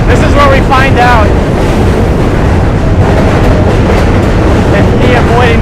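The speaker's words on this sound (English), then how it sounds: "We're face to face with the trains essentially the entire time we're on the" New York subway trains rumble and clatter loudly past on the Manhattan Bridge, heard up close from the walkway with wind buffeting the microphone, and a voice speaks intermittently over the steady roar.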